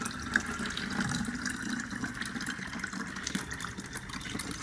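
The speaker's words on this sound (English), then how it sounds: "So I'll go right ahead and pour the water into the can." Water is poured into a can with holes punched in its side, making a steady splashing gush that runs continuously and fairly quietly throughout, with small jets streaming out.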